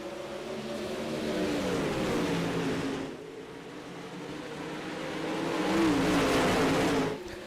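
Race truck engines rev and roar on a sunny dirt speedway in iRacing's Outlaw Dirt Series at Cedar Lake, a loud rising and falling drone that swells, dips briefly, then climbs again as the field puts the power down.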